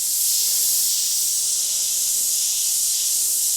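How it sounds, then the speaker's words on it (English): An airbrush sprays paint in a steady, close, continuous hiss that holds at an even level throughout, with no voices. "You can also angle the airbrush if you wish."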